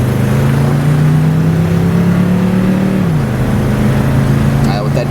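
A Chevrolet Monte Carlo with a big-block V8 accelerates with a deep baritone exhaust, one steady loud drone climbing in pitch, then dropping at a gear change and winding out again.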